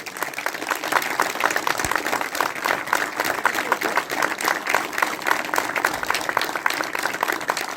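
Audience at a town mayor's evening address applauding, dense continuous clapping with crisp individual claps standing out, loud and sustained throughout without talk.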